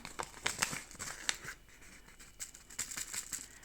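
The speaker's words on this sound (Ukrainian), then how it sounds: "Пакет відкриваю." Crinkling plastic packet of pepper seeds being torn and opened up close, with bursts of rustling and crackling in short irregular bursts.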